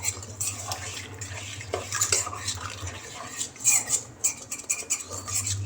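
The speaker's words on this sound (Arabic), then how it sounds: "نخلط المكونات جوست بالملعقه" A spoon scrapes and clinks against a bowl while mixing focaccia bread dough ingredients with olive oil, steady rhythmic stirring up close with repeated light metallic taps and no talking.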